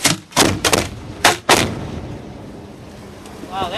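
Firework bursts at a Marine City display: a few hard, booming thumps in quick succession in the first second and a half, then a rumbling tail, with faint chirping near the end.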